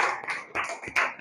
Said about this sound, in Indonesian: Aplaus, tepuk tangan.